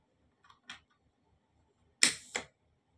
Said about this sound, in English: we can hear that the solenoids are working